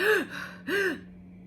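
A vocal coach makes two loud, sharp gasping intakes of breath, each short and harsh, with a brief pause between them. The voice demonstrates the noisy breath a singer can take before a sung line.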